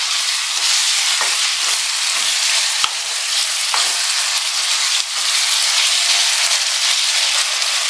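Pepper masala chicken with salt and turmeric fries in a hot pan, giving a loud, steady sizzle. Occasional clicks and scrapes from stirring come through close up.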